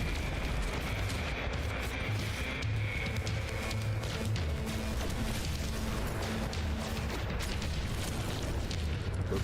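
Gunfire in the video game No Man's Sky sounds as a dense, continuous stream of rapid bursts and rumbling booms over a steady roar, loud and unbroken throughout.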